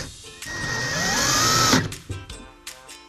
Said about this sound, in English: so I'm just going to drive one screw in first.